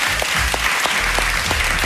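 Steady applause from a crowd fills the whole stretch, dense and continuous with a few heavier thumps underneath.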